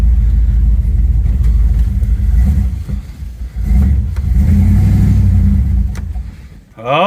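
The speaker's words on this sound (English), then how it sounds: "We are driving the Chevelle in the field" A 1972 Chevelle's engine rumbles steadily while driving through a field, with deep low-pitched drone that swells and eases as the throttle rises and falls, close and loud throughout.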